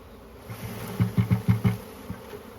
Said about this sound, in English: There's less and less bees in the air